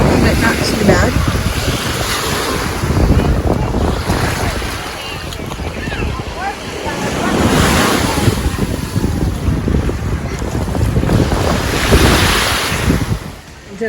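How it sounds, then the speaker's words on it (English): Choppy Caribbean Ocean surf off a St. Kitts beach facing Nevis rolls in with steady, loud washes of water, heavily mixed with gusting wind buffeting the microphone. "this is the Caribbean Ocean. It's a little choppy, but not too bad."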